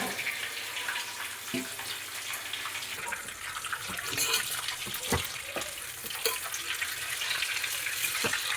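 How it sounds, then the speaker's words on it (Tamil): Water is poured onto a hot plate while cooking chicken mandi, giving a soft, steady hiss and splash with scattered clinks and knocks; the sound is fairly quiet and continuous. "இந்த பிளேட்டில் நம்ம தண்ணி ஊற்றிப்போம்."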